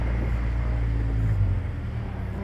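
STR-class autocross race car driving through slaloms, a loud close engine drone with wind buffeting, holding a steady pitch with slight shifts in load.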